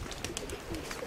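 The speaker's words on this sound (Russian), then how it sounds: "Я сейчас покажу, какие у меня еще голуби есть." Domestic pigeons, including flying breeds, cooing softly nearby on a windy day, a few low murmuring calls over a steady rush of wind noise.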